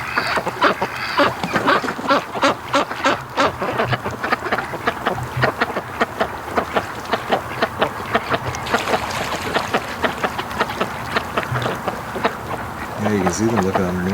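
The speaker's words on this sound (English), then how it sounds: "there are just way too many ducks hanging around that dock" Ducks crowd around a dock, swimming beneath and beside it, giving scattered quacks over water sounds while a person talks through most of the stretch.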